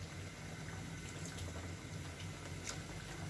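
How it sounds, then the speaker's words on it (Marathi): Water pours into a pan of chicken gravy in a home kitchen, a faint, steady splashing hiss over a low background hum. "मी अजून थोडस पाणी वाढवलंय"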